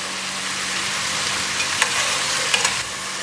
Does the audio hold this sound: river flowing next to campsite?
no